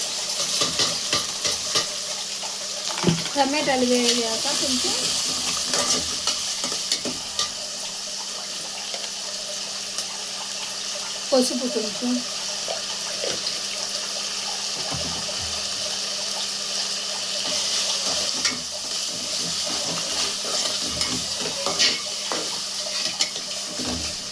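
Tomato and salt frying in a pan for a ridge gourd and prawn curry, a steady sizzle running the whole time with a few clinks and scrapes of stirring, close and fairly loud, no talking.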